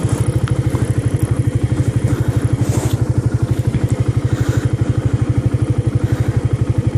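Suzuki motorcycle engine held at about 7,000 RPM in first gear with the clutch half open, a loud, steady, rapidly pulsing drone with a light mechanical clatter throughout, no speech.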